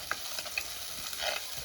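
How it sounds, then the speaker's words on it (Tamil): Green chillies frying with onions in a pan, a quiet close sizzle with light scraping stir strokes and small crackles. "பச்சை மிளகாய் போடுறா பாருங்க."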